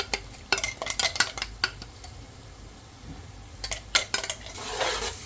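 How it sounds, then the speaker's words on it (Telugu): Ginger being stirred into frying onions in a pan, with a run of sharp scraping and clattering spatula strokes against the metal, a pause, then more stirring over a faint sizzle. "బాగా కలుపుకోండి."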